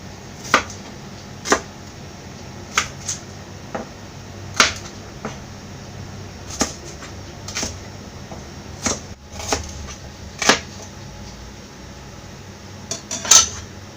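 Small onions cut one after another with a knife on a board, sharp irregular clicks and taps spread through the stretch, close and fairly loud over a quiet background, no voices.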